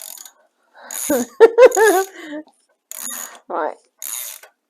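Spanner-style tool tightening a bolt on an R&G crash protector fitted to a 2020 Triumph Speed Twin motorcycle, giving short metallic ratcheting clicks in quick bursts, close by, with a brief spoken word in between.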